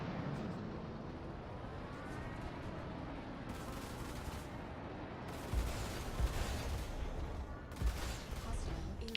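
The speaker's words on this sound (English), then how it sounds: "Achieved missile launch." Missile launches and weapon fire in Star Citizen Arena Commander, heavy thumping bursts and booms over a constant roaring engine rumble, with several louder low impacts in the second half.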